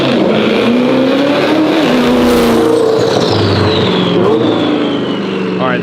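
A twin-turbo C8 Corvette accelerates hard and loud, its engine pitch climbing and then dropping sharply at quick, crisp gear shifts before climbing again.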